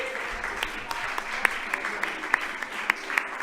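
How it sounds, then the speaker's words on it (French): A studio audience at a French television show applauds a Pharrell Williams lookalike, steady clapping with a few sharp, louder claps standing out near the front. "On peut l'applaudir bien fort, cher public."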